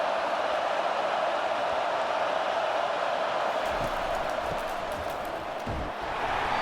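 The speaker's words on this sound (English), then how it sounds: "It is getting loud as this crowd tries to help its defense." A roaring stadium crowd in the College Football 25 video game, Arizona State against LSU, makes a continuous loud wash of cheering noise as the defense lines up, swelling with scattered claps and thumps toward the end.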